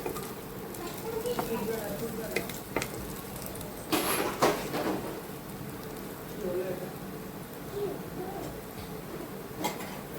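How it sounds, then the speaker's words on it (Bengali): Onions fry in a pan with a soft, continuous sizzle, broken by a few utensil clinks and scrapes, one louder clatter midway, and talking over it. "পেঁয়াজগুলোকে ভেজে নিচ্ছি, লাল লাল করে একটু পেঁয়াজগুলো ভেজে নিতে হবে।"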